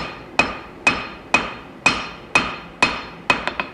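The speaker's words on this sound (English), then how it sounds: "Just working on getting everything lined up, forging my tang in just a little bit longer." Sharp hammer blows ring out at an even pace while the tang of a wootz steel knife is forged, seven strikes followed by a quick double tap, each with a bright metallic ring.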